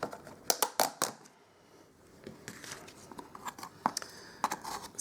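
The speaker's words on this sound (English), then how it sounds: "Sorry about the noise with the" A plastic container of gold embossing powder is handled close up, giving faint irregular clicks, taps and rattles in quiet bursts.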